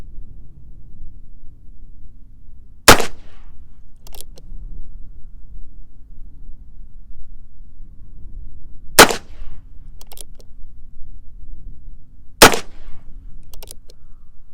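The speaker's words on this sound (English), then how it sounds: "that one shot went a little higher" Three sharp, loud revolver shots from a Heritage Rough Rider fired outdoors, spaced several seconds apart, each a crisp crack with a short echo trailing off.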